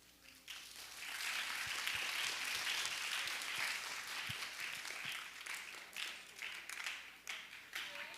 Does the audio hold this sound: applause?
yes